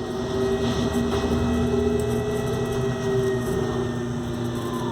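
A 400 watt wind turbine bought on eBay spins in steady wind, giving a continuous close whir with a faint tonal hum and no pauses for about five seconds.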